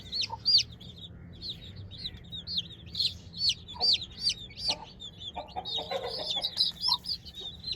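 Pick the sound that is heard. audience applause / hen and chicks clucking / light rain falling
hen and chicks clucking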